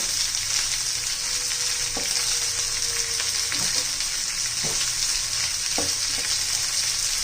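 Tomatoes and salt fry in a pan for zunka, a loud steady hiss of sizzling with a few light clinks of a spoon stirring, no voices.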